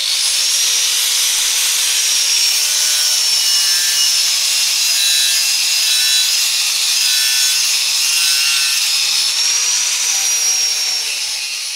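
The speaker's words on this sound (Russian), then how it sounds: "затем вычищаем от старой краски и ржавчины с помощью металлической щетки" A metal wire brush scrubs old paint and rust off a car muffler in a continuous, loud, harsh abrasive rasp that never lets up.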